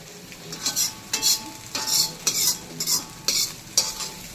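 Egg fried rice with turmeric being stirred in a hot pan, a spoon scraping and tossing the rice in repeated strokes over a steady sizzle, with no talk.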